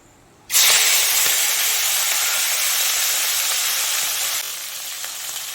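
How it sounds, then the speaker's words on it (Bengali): Shrimp dropped into hot mustard oil in a wok: a sudden loud burst of hissing sizzle starts after half a second and holds steady, easing slightly toward the end, with no talk. "এই যে চিংড়ি মাছগুলো এবার ভেজে নেব।"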